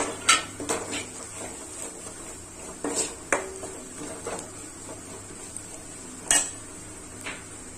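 Spice powders sautéed in oil in a pan for a lentil dumpling curry: a ladle clinks and scrapes against the pot in scattered close knocks over a faint background hiss.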